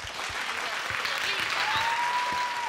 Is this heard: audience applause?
yes